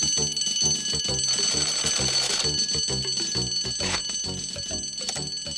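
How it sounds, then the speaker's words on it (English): A ringing alarm bell clangs continuously and loudly as the alarm is raised for an allotment potting shed fire in a children's animated show, with busy background sound throughout. "I'll have to raise the alarm"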